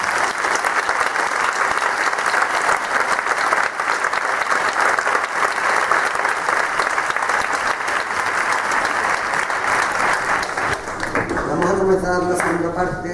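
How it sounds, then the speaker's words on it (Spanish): A concert audience applauds a church brotherhood's brass band at its 25th anniversary concert, with dense, sustained clapping filling the hall throughout and a voice beginning to speak as the applause fades at the end. "Quiero un aplauso para ellos."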